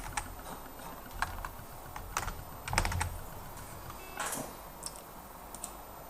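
Keys on a computer keyboard clatter in short scattered bursts while a search is typed on a Windows 10 PC, moderately close and otherwise quiet, with no talking.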